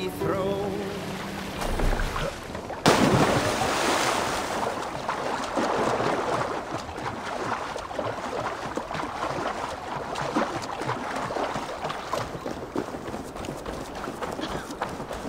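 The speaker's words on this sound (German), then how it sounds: "Hier müssen wir rudern, Eivor! Hier können wir nicht segeln." Oars working through water as a Viking longship is rowed in Assassin's Creed Valhalla, a steady, continuous wash of splashing and rushing water that carries on unbroken after a brief lull at the start.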